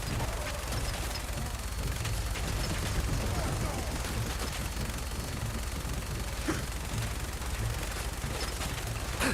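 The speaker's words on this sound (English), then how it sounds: "Why does this minigun suck?" A minigun in Fallout 4 fires in a dense, continuous rattling burst. The sustained roar of rapid gunfire fills the whole stretch at steady loudness.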